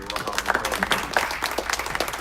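Audience applause at a city media briefing, a scattered patter of claps that stays moderate and fairly close, with some voices mixed in over roughly two seconds.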